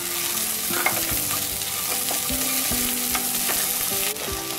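Onion and garlic sautéing in a pan for Chettinad vendakkai mandi, a dense steady sizzle with repeated scraping strokes and clinks as the mix is stirred, close and loud with no talking.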